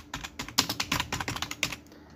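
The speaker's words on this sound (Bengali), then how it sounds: "তো আমি আবার লিখে দিচ্ছি MD" A name typed on a computer keyboard: a rapid, steady run of close, crisp keystrokes lasting about two seconds, alone with no talking.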